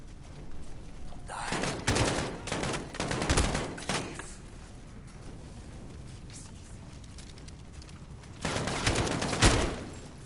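Gunfire in the video game Call of Duty: Modern Warfare, fairly distant bursts of automatic fire in two clusters separated by a quieter stretch, no voices.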